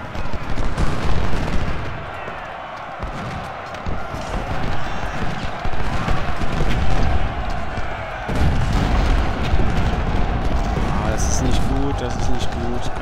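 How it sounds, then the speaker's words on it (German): Cannon and artillery fire in the Civil War strategy game Ultimate General: Civil War at the Battle of Gettysburg, booming shots and crackling musketry in dense bursts under someone talking. "Kanonenfeuer frei"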